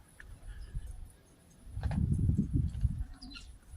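Homing pigeons from a snowbound loft, old-bird racing team, burst into flight: a loud swell of rapid wingbeat flutter over about a second and a half, with faint chirps before and after.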